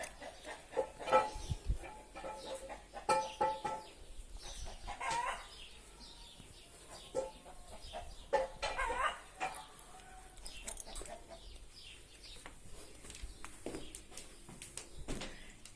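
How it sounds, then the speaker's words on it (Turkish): Roosters and hens cluck and crow from nearby in a village house yard, with dogs or other animal noises mixed in amid steady background activity. "Horozların, tavukların sesleri geliyor."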